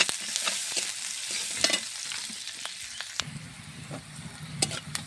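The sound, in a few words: potato and onion frying in oil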